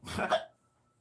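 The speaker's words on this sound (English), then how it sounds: "Did you just hiccup, or was that a laugh?" A single short, close hiccup, abrupt and breathy, followed by near silence.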